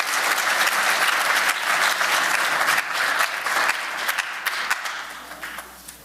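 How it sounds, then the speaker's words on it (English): An audience at an awards ceremony breaks into loud, sustained applause, a dense wash of clapping that slowly thins and fades toward the end. "Since we're all about clapping, let's give them a hand too."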